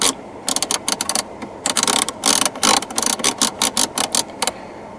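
Plastic air vent on the dashboard of a 2005 Toyota Yaris 1.3 VVT-i being adjusted, giving a close series of crisp ratcheting clicks in quick bursts with short pauses between them.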